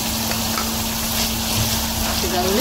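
Chicken masak merah sautéing in a pan makes a steady broadband sizzle with stirring scrapes, heard close and continuous under a background hum.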